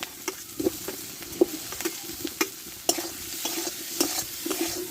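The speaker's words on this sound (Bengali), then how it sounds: "মশলার সঙ্গে ভালো করে কষে নেব" Fried potatoes with spices being stir-fried in a pan, a few sugar grains added, with steady sizzling and repeated sharp scraping and clinking strokes of a spatula, close and fairly loud.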